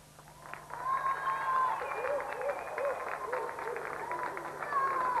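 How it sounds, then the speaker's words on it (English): Studio audience on a TV video game show applauds contestant Aaron after he loses, a steady wash of clapping mixed with game sound effects and tones that sit over it for several seconds. "Round of applause for Aaron"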